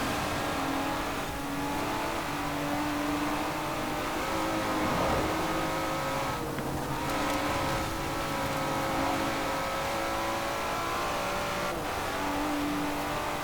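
Aston Martin DB4 racing in Forza Horizon 4, with a steady engine drone that rises and falls through corners, heard continuously for several seconds alongside other race cars and no talking.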